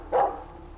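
A single bark from a two-year-old hunting dog after a morning elk hunt in Sweden, one short sharp yelp near the start, fairly close, followed by quiet outdoor background.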